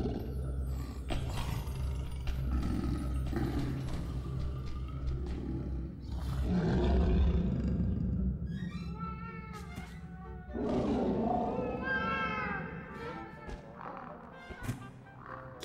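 Lions roaring in a den in the Portal Runner video game, deep rumbling growls and roars rising and falling over a continuous low game soundtrack, with snarling bursts toward the end.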